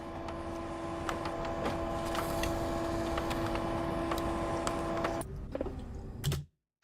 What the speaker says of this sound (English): we have this loud ass printer noise that we have to deal with